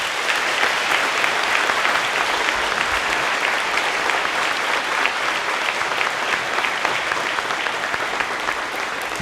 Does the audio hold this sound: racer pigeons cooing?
no